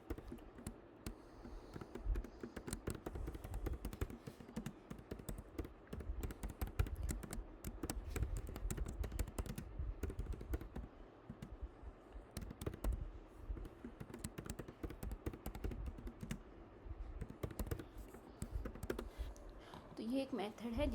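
Code is typed on a computer keyboard as a binary tree traversal method is written. Rapid, irregular key clicks run steadily throughout under someone speaking Hindi nearby.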